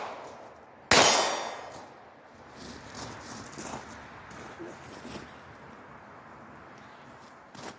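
A Ruger Mark IV pistol fires a single sharp report that clangs off a steel target, followed by faint scattered ticks and rustling at an outdoor range.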